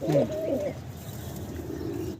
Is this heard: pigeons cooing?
yes